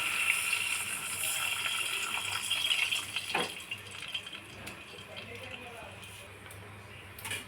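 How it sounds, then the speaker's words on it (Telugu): Water poured into a pan while cooking upma, a faint gushing trickle that runs steadily under quiet talk. "వాటర్ వేసుకుంటున్నాం."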